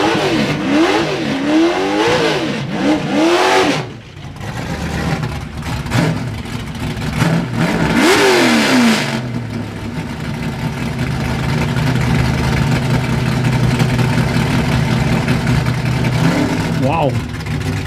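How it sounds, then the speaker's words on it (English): A little silver Chevrolet Camaro at a drag racing event revs hard, with repeated rising and falling engine sweeps over a loud, steady engine drone. Voices are heard at times beneath the engine noise. "that little silver Camaro has some RPM to it"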